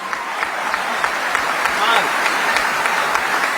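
An audience at a comic Hindi poetry show claps steadily and densely throughout. The applause is continuous and fairly loud, with no speech over it.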